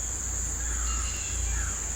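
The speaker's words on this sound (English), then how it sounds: "360-degree, multi-tiered sound grade of crickets" Steady high-pitched cricket chirping fills the background, a continuous even drone with no voices.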